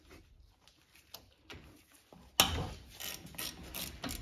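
A thin wrench works the front brake caliper bolts on a 2010-2015 Lexus RX350, giving sparse ratchet clicks, then a sharp crack as a bolt breaks loose, followed by quicker, louder ratcheting up close.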